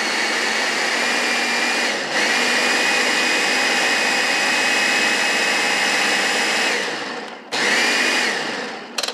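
An electric mixer whirs loudly and steadily as it beats softened room-temperature cream cheese for a pumpkin pie cheesecake parfait, cutting out briefly near the end, then restarting for a short burst.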